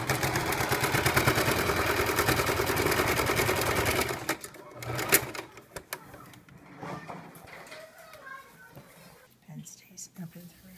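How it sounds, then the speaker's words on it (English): A sewing machine runs a straight stitch on towel fabric while making towel pants, buzzing fast and steady for about four seconds before it stops. Soft talking and handling sounds follow. "we're gonna add a stitch in. Straight stitch."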